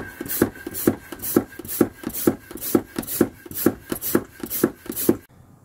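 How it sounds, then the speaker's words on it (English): A hand-operated oil extractor is being primed to draw oil from a MerCruiser marine engine, making about a dozen evenly spaced pumping strokes, close and rhythmic, with no talking. "then we're going to prime the oil extractor"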